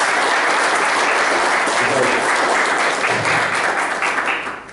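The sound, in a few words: applause at a press conference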